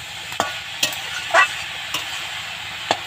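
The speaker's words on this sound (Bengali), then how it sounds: "এবার আমি এটাকে ভালো করে ভেজে নেব।" Drumstick flowers and tomato pieces being stirred in a pan, a steady soft frying hiss with a few scraping spoon strokes, close and moderately loud.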